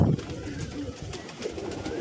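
Pigeons of fancy breeds kept for sale coo softly in the background, faint low calls under room noise, with a brief rustle at the start.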